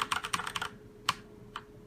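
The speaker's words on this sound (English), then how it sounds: "the satisfying clicky sound whenever you put your hands on it and press the keys" Mad Catz Strike TE mechanical keyboard with glossy keys, clicking in a quick run of sharp keystrokes, then two isolated presses after a pause; close and moderately loud, with no talking.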